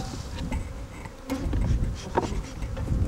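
Honeybees buzz around an open hive on a cold morning, a close, wavering drone with small knocks and rustles from handling the frames.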